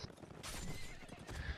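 A horse whinnies and its hooves clop in a video game battle, with a loud, close neigh followed by galloping hoofbeats.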